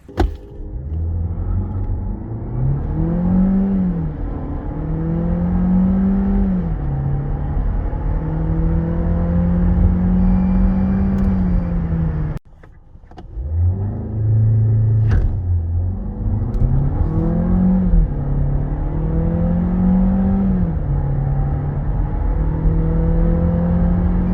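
Skoda Octavia 1.5 TSI e-Tec mild hybrid with a 150 hp engine and seven-speed DSG automatic accelerating hard. Loud, close engine tone climbs through rising gear pulls, with a brief drop at a shift midway before it revs up again.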